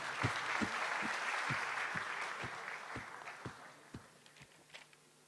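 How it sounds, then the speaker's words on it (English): A round of applause in an engineering class fills the room, then thins to a few scattered claps near the end. "Let's have a round of applause."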